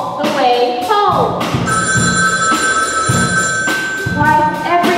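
A telephone bell rings in repeated bursts during a school stage production of the musical Hairspray, loud and sustained, with thumps from the stage and voices around it.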